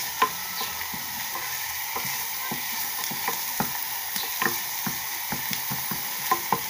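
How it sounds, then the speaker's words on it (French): Tomato and onion frying in hot oil over a flame, a faint continuous sizzle broken by repeated light stirring clicks and scrapes. "Dans notre huile sur le feu, là nous venons de mettre la tomate et l'oignon."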